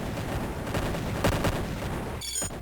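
In Imperium Galactica, tanks fire on a fortress in a steady stream of rapid gunfire and booming shots, loud and continuous over a rumbling battle din. A burst of brighter, higher-pitched blasts comes near the end.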